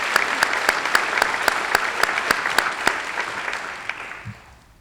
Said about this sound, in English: So give me a round of applause as students,